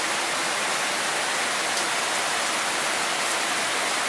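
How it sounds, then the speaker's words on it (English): Steady rain falling outdoors on a rainy Sunday, a dense, even hiss with no letup for the whole stretch. "Now you see how the rain is going on out here."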